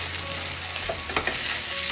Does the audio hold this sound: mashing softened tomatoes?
yes